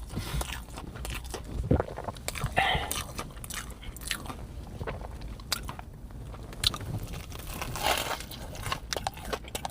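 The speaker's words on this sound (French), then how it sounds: "C'est pas mal, tenders bien croustillant." Someone bites into crispy chicken tenders and buttered Texas Toast, giving close, loud crunches and chewing in irregular bursts over about ten seconds, with no talking.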